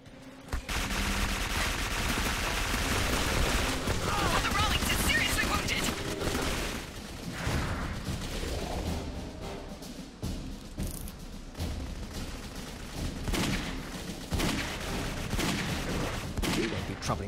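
Gunfire in the first-person shooter Clive Barker's Jericho, dense bursts of automatic weapon shots and blasts, loud and sustained with a heavy low-end rumble.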